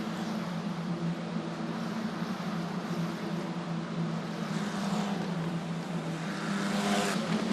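Euro 4 Championship single-seater race cars at Mugello Circuit during a race, engines droning steadily with a continuous loud roar that swells slightly toward the end, with no voices.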